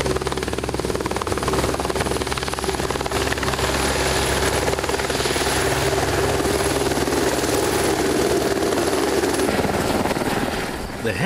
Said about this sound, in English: The helicopter can search the bush more thoroughly than the fixed-wing aircraft.